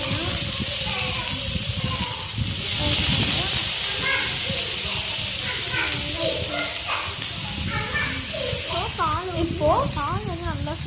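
Milk poured over a snack roasting in a hot pan sets off a loud, steady hiss and sizzle that fills the whole stretch, with bubbling crackle and a person speaking over it.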